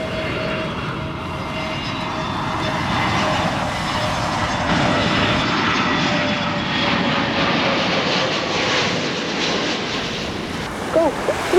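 A jet airliner on final approach to Gibraltar's runway 27 roars steadily and loudly, a broad sustained engine rush with wind and distant surf beneath it, holding close for the whole stretch.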